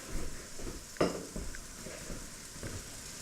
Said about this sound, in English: We're going to saute this for about 3 to 5 minutes.